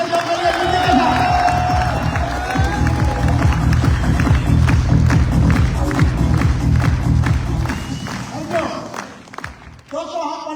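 A large crowd in a stadium hall claps and cheers in a dense, steady wave that fades near the end, with a voice over a sound system running underneath.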